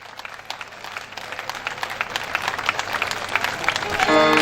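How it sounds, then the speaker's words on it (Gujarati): Audience at a Bhagavad katha applauding during an honouring on stage, a crowd clapping that swells gradually and grows louder and denser toward the end. "જ્યાં સુધી સન્માન પૂરું ન થાય ત્યાં સુધી તાળી બંધ ન થાય."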